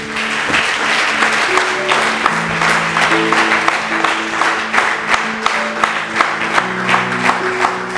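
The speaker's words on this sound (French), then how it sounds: "Est-ce qu'on peut acclamer pour le Seigneur?" A church congregation at a Sunday service applauds for the Lord, with steady loud clapping from many hands throughout, sharper claps punctuating the wash and musical tones sounding underneath.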